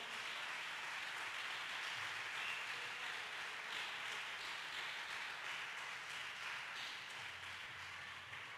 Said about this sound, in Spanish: Denle palmas al Señor en esta hora.